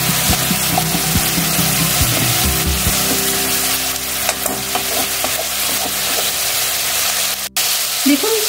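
Hilsa pieces being sautéed in a thick mustard-poppy curry in a pan, a loud continuous sizzle and bubbling with occasional scrapes and knocks of stirring, close up and without talk.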